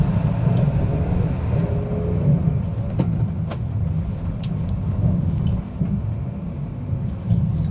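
A Honda Jazz 1.2 petrol hatchback with a manual gearbox drives along, giving a steady low engine and road rumble throughout with faint clicks and no talk.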